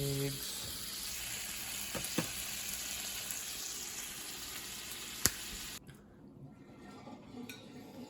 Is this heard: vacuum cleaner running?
no